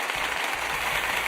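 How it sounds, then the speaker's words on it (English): Steady applause and clapping throughout, moderately loud and dense, like a soundboard clap effect played during a casual after-party live stream. "Claps."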